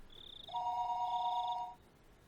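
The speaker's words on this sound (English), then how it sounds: "the phone began to ring again" A telephone in the Higurashi visual novel rings again shortly after the receiver is put down: one loud, close, sustained electronic trill of about a second and a quarter, with a fainter high tone just before it and no voices.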